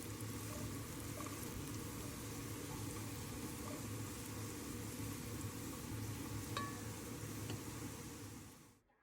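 Sliced onions sautéing in hot oil in a heavy-bottomed pan, a steady soft sizzle that stays even and fairly quiet throughout with no talking, then fades out at the end.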